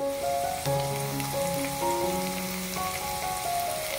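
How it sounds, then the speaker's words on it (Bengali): Sliced onions fry in hot oil until lightly reddened, a continuous close sizzle with bright crackle, accompanied by faint sustained tonal sounds in the background. No one speaks. "এখন আমি এই পেঁয়াজটাকে তো এরকম হালকা আমি লাল করে ভেজে নেব"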